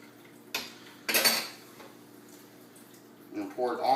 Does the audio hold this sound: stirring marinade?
yes